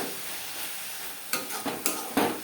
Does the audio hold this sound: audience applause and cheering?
no